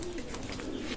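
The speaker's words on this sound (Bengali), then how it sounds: "বিয়ার্স এক জোড়া টেডি কবুতর আছে, দেখেন স্টাইল দেখেন" Teddy pigeons of Oman bloodline give a low, throaty coo, one brief continuous rolling call heard up close with no talking.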